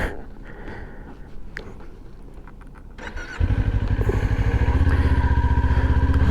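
A motorcycle engine idles faintly alongside some small clattering. Then it surges into a loud, steady, throbbing run close by as the clutch is worked, with no voices present.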